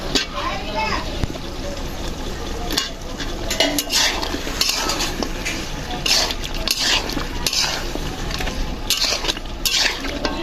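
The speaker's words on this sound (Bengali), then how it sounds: "ভালো মতো কষা নেব, পানিটা দিয়ে দেবো।" Duck curry with potatoes is stirred in a metal pot, with utensils scraping and clanking against the sides in an irregular rhythm amid a busy, noisy kitchen background with faint voices.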